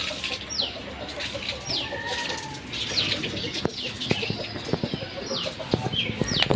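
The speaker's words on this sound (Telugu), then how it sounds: "ఇప్పుడు మీరు చూస్తున్నది మా కోడి పెట్టండి" A brooding village hen sitting on six eggs gives soft clucks among other birds' calls and chirps, faint and scattered, with occasional knocks in the background.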